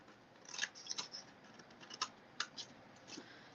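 Scissors snip through card while a treat box is being made, a run of short crisp cuts close by, fairly quiet and alone, with no talking.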